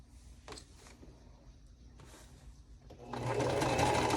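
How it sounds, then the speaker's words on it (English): Sewing machine stitching a quilt block seam a quarter inch from a drawn line, heard as soft intermittent whirring bursts that swell into a loud, steady close-up run of stitching toward the end. "I'm going to be stitching 1/4 of an inch over"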